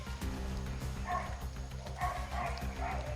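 Several dogs bark and yip in short bursts at a moderate distance, over a low background rumble.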